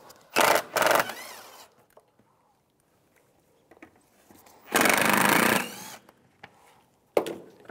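Screws are driven out with a T25 socket while removing the airbox on a 2006-2011 Cadillac DTS, heard as short bursts of ratcheting, whirring tool noise with quiet gaps and small clicks between them.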